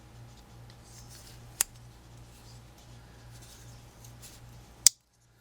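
A GEC pocketknife with a cam tang and steel bolsters has its blade worked open and snapped shut, giving two sharp, crisp metallic clicks a few seconds apart over a faint steady hum.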